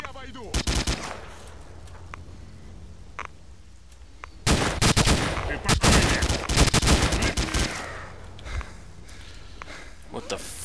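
Gunfire in S.T.A.L.K.E.R. Shadow of Chernobyl with the Oblivion Lost 3.0 mod: sharp automatic bursts, first a few near shots, then a loud sustained volley in the middle that tapers off, with a voice speaking over it.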